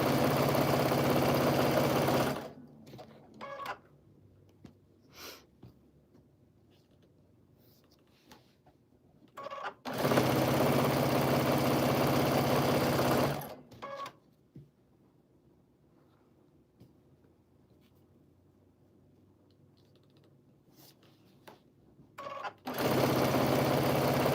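A sewing machine stitches in three runs, each a loud steady whir lasting a few seconds, with long quiet pauses and faint handling noises between them.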